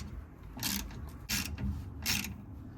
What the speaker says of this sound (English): even though it's a little more tugging on a ratchet